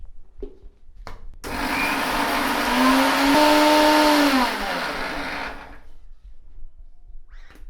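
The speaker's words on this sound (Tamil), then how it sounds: "ஸோ நான் கொஞ்சம் பொடியாக தான் அரைச்சிருக்கேன்" A mixer grinder grinds roasted curry leaves into powder, whirring loudly and steadily for several seconds with a rising whine before spinning down, with short knocks before and after.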